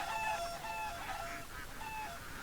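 Chickens in the farm game Farm Expert 2017 cluck and warble in repeated short calls over a steady background hum, moderately near, with no talk.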